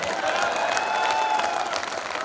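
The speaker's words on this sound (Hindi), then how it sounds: "आप लोग जोरदार तालियां बजाइए।" Applause from an audience at a Hindi comic poetry gathering (hasya kavi sammelan), a dense steady wash of many hands clapping with crowd noise, filling the whole stretch at fairly close range without a break.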